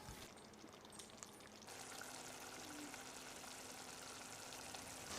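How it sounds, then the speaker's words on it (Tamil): Mutton curry masala bubbling and simmering in a pot, a steady soft hiss and crackle of boiling liquid that grows slightly louder partway through, with no talking. "உப்பு சேர்த்து கலந்து விட்ட பிறகு ஒரு 2-3 நிமிஷம் கொதிக்கட்டும்."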